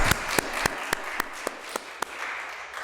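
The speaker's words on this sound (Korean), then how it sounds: "상훈 형제 가정 방문했는데 또 박수로 환영하겠습니다" A church congregation at a Sunday Mother's Day service claps in welcome, a soft spread of applause with a few distinct, evenly spaced nearby claps, steady throughout and free of speech.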